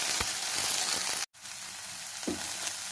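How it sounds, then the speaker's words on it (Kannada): Sliced okra (bendekayi) fries in oil in a pan for a dry palya, a dense steady crackling sizzle up close with a momentary gap partway through and a few soft stirring scrapes, no talking. "ಈ ಬೆಂಡೆಕಾಯಿ ಹುರಿಬೇಕಾದ್ರೆ ಮಾತ್ರ ಬೇರೆ ಏನು ಕೆಲಸ ಮಾಡಬಾರ್ದು, ನೀಟಾಗಿ ಹುರ್ಕೋಬೇಕು"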